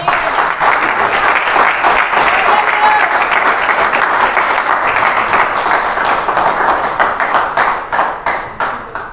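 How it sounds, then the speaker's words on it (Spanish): A church congregation breaks into loud, dense applause for the Lord, sustained for several seconds before thinning into scattered individual claps that fade out. "Se merece un aplauso el Señor"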